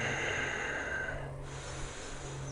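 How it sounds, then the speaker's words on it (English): Steady breathing in through the nose during a neck-strengthening exercise, a soft sustained nasal inhale heard up close against a low background hum. "Always going in through the nose,"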